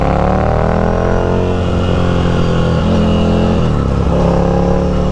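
A Ducati Scrambler with a Competition Werkes slip-on exhaust and no dB killer fitted, recorded close and loud as the engine pulls steadily through a gear with a rising drone, then a brief dip at a shift and renewed acceleration.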